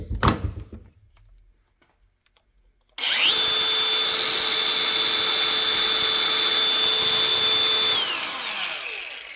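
A cordless grinder powered by a 5 amp hour battery spins up after a few quiet seconds, holding a loud steady high whine that then winds down, preceded by faint handling noise.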